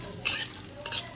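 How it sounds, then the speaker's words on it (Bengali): Cashews frying in a pan for basanti polao, two quick scraping stirs of a spoon over a low steady sizzle, close and brief. "কাজুটাকে বেশ লাল করে ভেজে দেবো"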